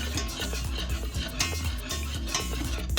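Flour being toasted and stirred in a pot for Turkish Sultan kebab, with a steady scraping and whisking rhythm of utensil against metal, close and continuous without speech.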